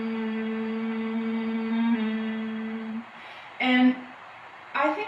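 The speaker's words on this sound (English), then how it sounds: "So humming breath is just what it sounds like. It's humming." Humming breath yoga exercise: a single voice hums a long, steady low tone for about three seconds, then fades, followed by two shorter hummed bursts, close and quiet with nothing else around.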